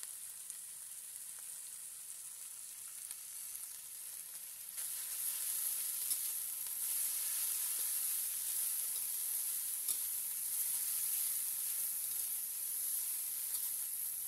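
Tofu and bean sprouts fry in a pan with a bright, steady high-pitched sizzle that grows noticeably louder partway through and then holds evenly, close up with no talking.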